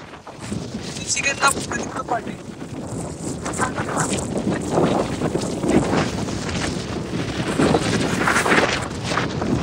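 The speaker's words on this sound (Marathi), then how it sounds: "खतरनाक हवा इकडे बाबा" Strong mountaintop wind roars and buffets the microphone continuously, loud and gusty throughout, with a voice faintly heard beneath it.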